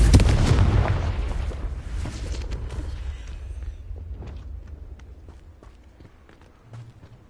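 A Confringo fire spell bursts in Hogwarts Legacy with a loud, booming explosion that rumbles low and decays over several seconds, followed by faint scattered crackles and footstep-like thuds.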